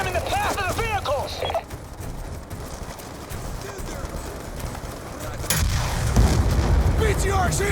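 In Call of Duty: Black Ops 2, a BTR vehicle blows up with a heavy boom that rises from a busy battlefield of gunfire and rumbling, with shouted voices in the background.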